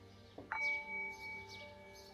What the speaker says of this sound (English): We're gonna ring the doorbell, like a fine gentleman that we are.